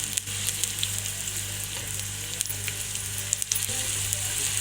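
Two chopped medium onions fry in oil in a cooking pot, giving off a close, continuous sizzle with small crackles and occasional stirring, with no talk.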